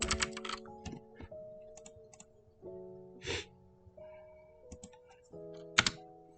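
Someone types on a computer keyboard, entering a filename at a Git command line, with bursts of close key clicks separated by short pauses and a sharper keystroke near the end.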